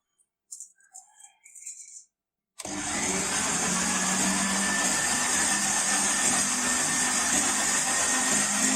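A mixer kneading flour dough for sweet tikiyan, with oil soon to be added, runs as a steady, loud motorized drone. It starts abruptly after a brief stretch of faint sounds and continues without a break.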